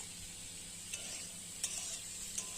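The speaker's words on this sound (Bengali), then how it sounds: "আমটা কিন্তু খুব ভালোভাবে নাড়াচাড়া করে কষাই করতে হবে" Mango chutney fries quietly in a pan, giving a soft steady sizzle, while a spoon clinks against the pan three times as it is stirred.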